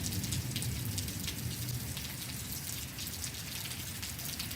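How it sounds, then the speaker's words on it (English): Steady rain falls continuously, a dense, even hiss of drops pattering on surfaces, with no voices. "raining nice here."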